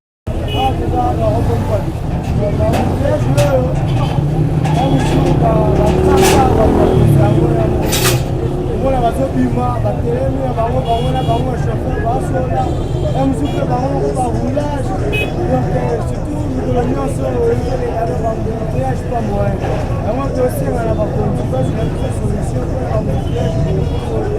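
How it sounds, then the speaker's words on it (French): Congested street traffic in a busy town square where bad parking and wrong maneuvers cause jams, with cars and buses idling and moving in a steady dense roar, a crowd's babble and nearby voices mixed throughout. "les bouchons provoqués par des fausses manœuvres et des mauvais stationnements continuent à rendre la circulation difficile en ces lieux"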